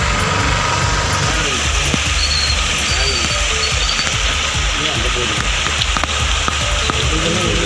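Heavy rain pours over Thoothukudi city, a dense, constant hiss of drops drumming on surfaces, loud and close, with a low engine-like rumble underneath and no distinct thunderclap.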